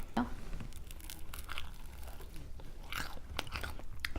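Crispy Bburinkle-style fried chicken bitten and chewed close to the mic, crunchy crackling bites and wet chewing in irregular bursts, with faint background talk.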